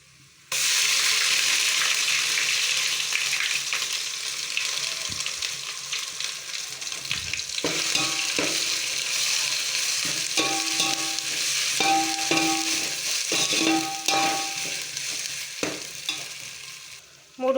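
Onions with fresh ginger-garlic paste fry for chicken biryani, a loud, close, continuous sizzle with repeated stirring scrapes and utensil clicks across the second half.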